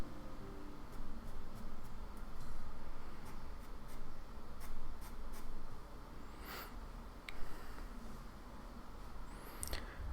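A pastel pencil sketches on paper for a puppy drawing, close scratchy strokes running continuously with occasional sharper taps and flicks of the tip, no talking.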